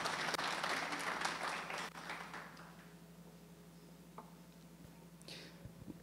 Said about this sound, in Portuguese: Salva de palmas, né?